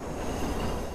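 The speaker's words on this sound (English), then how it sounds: "I won't even have to worry about trains hitting me." A train rumbles past in the Watch Dogs video game, a steady, dense, close roar of rolling wheels with a faint squeal, filling a brief moment without speech.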